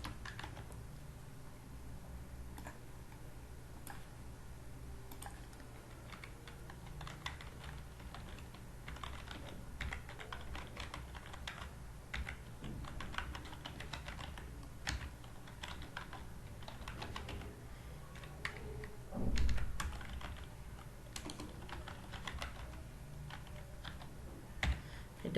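Quiet, steady typing on a computer keyboard, soft irregular key clicks continuing throughout at close range with no speech.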